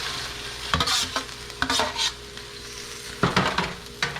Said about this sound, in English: Throw in the chicken,